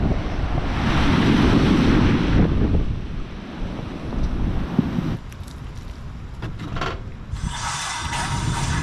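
Surf washes over and tumbles loose volcanic rocks on a black sand beach on Maui, a steady roar of breaking waves with wind buffeting the microphone and scattered clunks and knocks near the end.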